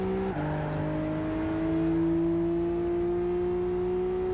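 A race car in Gran Turismo 5 powering out of a corner, its engine holding a steady, loud droning whine that dips after a gear change and then climbs slowly.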